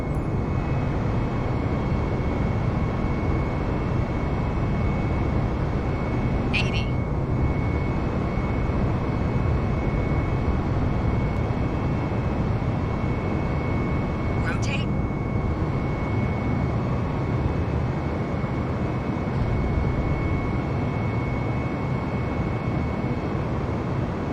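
Airliner engines at takeoff thrust in Microsoft Flight Simulator, the throttles set to the flex detent with autothrust armed, make a steady, loud broadband roar that holds evenly throughout.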